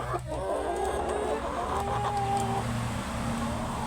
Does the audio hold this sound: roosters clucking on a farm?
yes